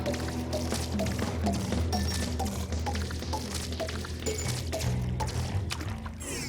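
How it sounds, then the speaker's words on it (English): Water rises in a LittleBigPlanet level with a pouring, liquid wash under loud, rhythmic game music that keeps a steady beat throughout. "once again, with the water rising"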